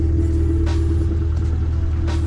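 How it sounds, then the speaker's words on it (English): A Honda Civic with a recently fitted aftermarket exhaust idles close by, a steady low rumbling drone with a faint whine on top and a few brief higher bursts. "He also got that exhaust not too long ago."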